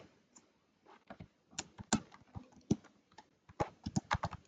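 Keys on a computer keyboard are tapped in close, crisp bursts, with irregular clusters of clicks separated by short pauses.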